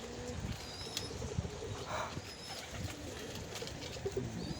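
Red wild, Jalali and Hyderabadi pigeons coo softly in a low, steady murmur, with faint bird calls drifting over it and no talking.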